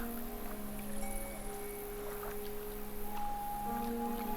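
Faint steady wind-like ambience in the video game Fishing Planet, California location, hisses continuously, with soft tonal hums and small watery rustles underneath, no speech.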